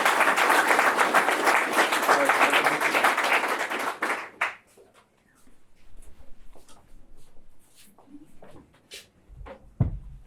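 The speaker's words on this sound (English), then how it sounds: "So another round of applause." Lively clapping from an audience at a gunsmith school graduation honoring honors graduates, dense and loud for four seconds, then cutting off abruptly to scattered taps and rustles in a quiet hall.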